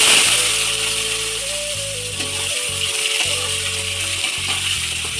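Pointed gourd (potol) pieces frying in hot oil, a steady close sizzle running the whole time beneath an intermittent mechanical humming tone.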